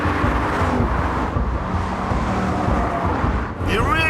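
A 5.5-litre V8 engine in a small car roars loudly and steadily close by, with road and wind noise mixed in and a rising rev toward the end.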